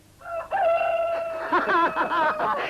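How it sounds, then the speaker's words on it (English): A rooster crows a loud cock-a-doodle-doo close by, in one sustained call that ends in a warbling flourish, heard on its own without talk. "Let us all hear your pretty cock-a-doodle-doo."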